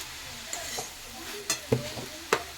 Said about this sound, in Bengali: তো শাক ভাজাটা অনেকটাই হয়ে এসছে দেখো